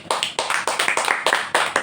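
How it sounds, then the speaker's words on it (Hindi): Audience applause at a church sermon, a burst of many hands clapping together in quick uneven rhythm, loud and close. "पर परमेश्वर को एक बार जोर से ताली दो"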